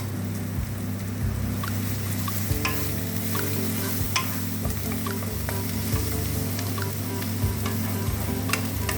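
Onion frying with ginger paste and torn green chilies, a steady close sizzle across the clip with a low hum beneath and irregular scraping stirs, no talking.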